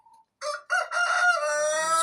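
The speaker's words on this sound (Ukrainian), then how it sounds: "Кукарікають." A rooster crows loudly nearby, a drawn-out cock-a-doodle-doo following a brief faint chirp.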